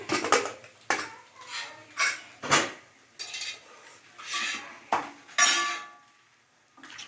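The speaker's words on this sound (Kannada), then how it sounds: "ಕುಕ್ಕರ್ ಓಪನ್ ಮಾಡ್ತಿದ್ದೀನಿ" A metal pressure cooker lid is opened after the steam has been released, with cowpea curry inside: a series of sharp metallic clanks and scrapes, close by and irregular, with short pauses between them and no talk.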